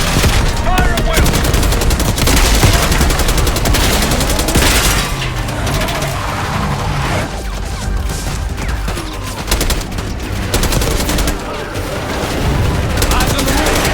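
Heavy, sustained gunfire and explosions from a Call of Duty: Black Ops 6 battle near a palace gate, loud and dense throughout with bursts of automatic fire, booms and shouted voices mixed in.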